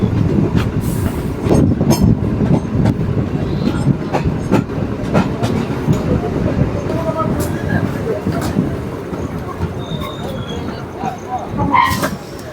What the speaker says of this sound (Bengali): তো ট্রেনের স্পিড অনেকটা স্লো হয়ে গেছে, তো ছাতনা স্টেশনে ঢুকছে আমাদের ট্রেন।